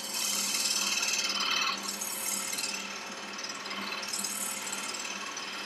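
A woodturning tool shear-cuts the rim of a wooden bowl spinning on a lathe, with a steady motor hum under swelling, hissy cutting passes that rise and fade several times close by.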